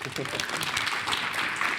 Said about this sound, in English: Big round of applause for Andy.